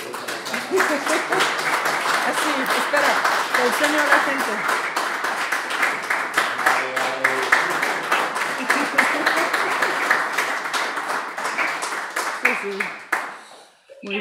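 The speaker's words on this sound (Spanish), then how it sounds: "te despedimos con un aplauso desde el corazón" A conference audience gives sustained applause, a steady, full wash of clapping lasting many seconds before it trails off abruptly, with a voice speaking briefly through it.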